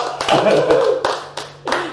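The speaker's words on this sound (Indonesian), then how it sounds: "Tepuk tangan dulu dong buat mereka." A few people clap by hand for guests on an Indonesian talk show, brief bursts of claps broken by short gaps, close and fairly loud, with talking over and between them.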